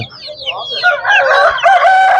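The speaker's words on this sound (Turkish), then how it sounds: "ön köşede duran tavuklu horoz" Rooster and hens at a poultry market, a loud close crow rising over scattered clucking in a short burst.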